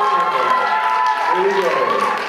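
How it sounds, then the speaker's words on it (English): A nightclub audience claps at an ASIA Night event, a steady wash of applause sustained through the clip with voices mixed into the crowd noise. "Give me a round of applause."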